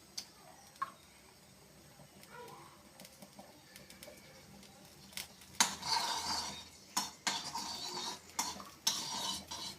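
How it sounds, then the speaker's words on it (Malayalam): Cashews and raisins stirred in hot ghee in a pan, with a spoon or spatula clinking and scraping against the metal in bursts that grow busier in the second half. "അണ്ടിപ്പരിപ്പും മുന്തിരിയും കൂടെ വറുത്തെടുക്കാം."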